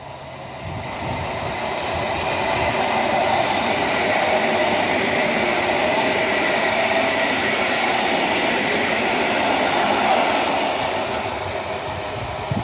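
A Polish train, an EU160 electric locomotive in Polish-flag livery, departs from a station in Tłuszcz, a loud, steady rolling rumble with wheel squeal and clatter that swells and then eases slightly.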